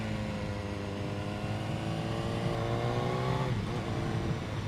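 2015 BMW S1000R motorcycle under way, a steady engine drone with rising harmonic tones as it pulls through the revs, then a quick shift and renewed pull, heard over constant wind rush.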